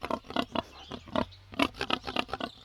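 Wild boar grunting in a rapid, uneven series of short, rough snorts, close and fairly loud, with no voices.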